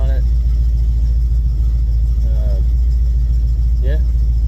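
A 1971 Monte Carlo, revived after 35 years, idles with a loud, steady low rumble before a drive, while a voice talks briefly over the engine noise.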